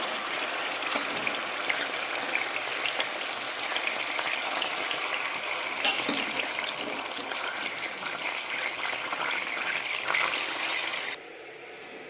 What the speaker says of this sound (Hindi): अब इसमें हम गाजर जो बॉयल किया है वो ऐड कर देंगे।